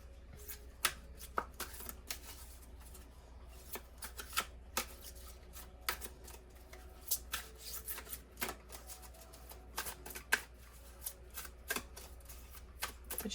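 Tarot cards shuffled and drawn from a spread, close and quiet: a steady run of crisp papery flicks and taps, irregular in rhythm, with no talking.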